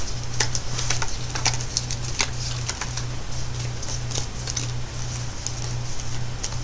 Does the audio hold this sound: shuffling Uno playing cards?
yes